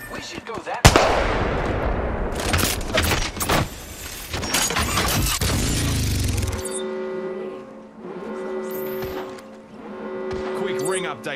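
Loud bursts of gunfire crack in a battle royale shooter game, rapid shots stacking for several seconds before giving way to quieter tonal game sounds and scattered pops.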